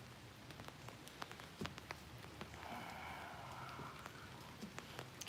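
Light rain beginning to fall outdoors, a faint steady patter with scattered drop ticks and a soft hiss building midway, low and distant throughout.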